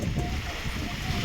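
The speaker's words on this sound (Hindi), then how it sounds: "ऐसे करके बहुत तेज़ आंधी अभी चल रही है।" Strong storm wind gusting through trees, banana leaves bending to one side on a hillside, a steady broadband roar buffeting close against the microphone throughout.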